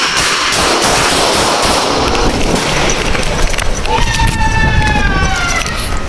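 A burst of gunfire erupts during a police confrontation, loud and harsh over dense street noise, with a siren wailing in the background toward the end.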